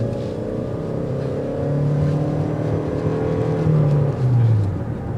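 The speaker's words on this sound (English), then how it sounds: "it has a throaty exhaust that filters in" A 2024 Toyota Crown Limited hybrid with an inline four-cylinder engine drives along, its throaty exhaust note filtering into the cabin as a steady low hum that rises in pitch with gentle acceleration.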